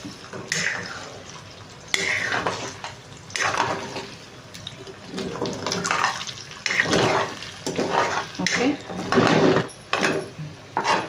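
Egg is stirred and folded into a paneer and potato paratha filling in a bowl, giving irregular soft wet squelches and light scraping in uneven bursts, close by, with no talk.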